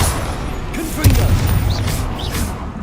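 A Confringo blast spell exploding in Hogwarts Legacy: a short, deep boom followed by a rumbling crackle under busy combat sounds from the game.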